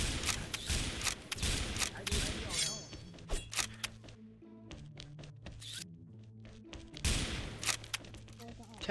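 The Electro Effect sniper rifle in the XSHOT video game fires a run of sharp, crackling shots and clicks, with a quieter gap partway through, over a busy game background while a voice talks.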